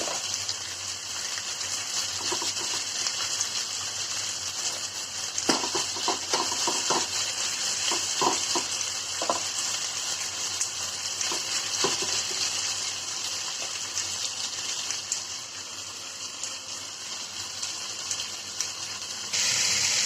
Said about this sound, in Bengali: এটা একটু হাই হিটে ভাজতেছি।